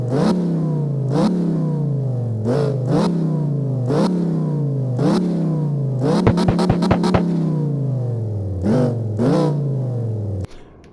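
Tuned drift car engine in CarX Drift Racing game, revved repeatedly in sharp rising sweeps that fall back, about ten loud close pulls with a quick stuttering limiter burst in the middle.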